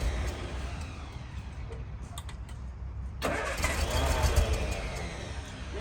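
An engine on half choke cranks and fires up, its rough running noise stepping up sharply into a loud, steady idle close by.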